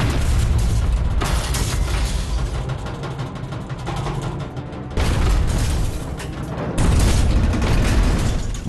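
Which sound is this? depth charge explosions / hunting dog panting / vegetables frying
depth charge explosions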